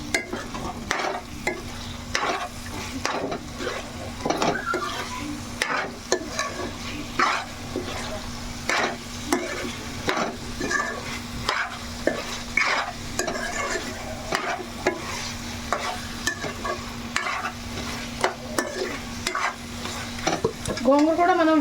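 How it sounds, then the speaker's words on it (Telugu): Gongura chicken stirred and fried in a pan, a steady close sizzle running throughout with repeated scraping stir strokes, continuous and loud with no talk over it. "కలిపేసుకుందాం ఒకసారి."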